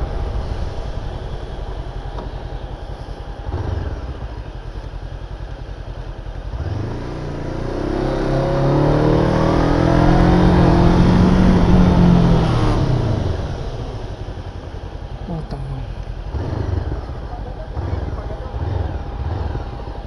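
An MBP 502 naked motorcycle on a test ride, its engine note swelling into a loud, rising roar through the middle as the bike accelerates, then settling back to a steady running drone.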